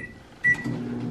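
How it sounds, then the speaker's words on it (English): A microwave oven gives a single short electronic beep from a pressed button, then settles into a low steady running hum, close by with no talking. "You have to push 100 on this microwave."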